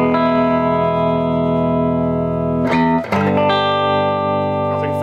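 Open chords ring out on an electric guitar through an early-1970s Deluxe Reverb amplifier, each held long with a warm reverb tail, and a quick re-strum near the middle before the next chord sustains; no talking.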